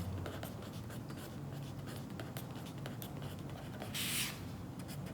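A pen or pencil scratching out numbers by hand on paper in a series of short, quiet strokes, with a brief louder rustle near the end.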